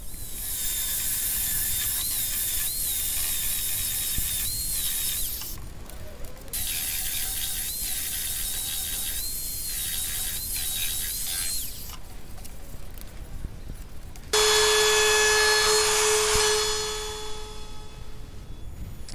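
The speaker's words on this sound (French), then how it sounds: "on vient affiner tous les petits bouts de bois qui dépassent un peu partout" A power tool trims protruding bits of wood on a DIY wooden palet game board, a loud close whining drone broken by short pauses and pitch shifts, ending in a steadier, higher-pitched tone.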